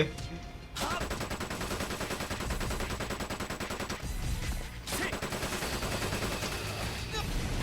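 In Kamen Rider Battride War Genesis, the G3-X rider sprays rapid continuous gunfire, a dense machine-gun rattle that runs almost without a break, with one brief lull partway through.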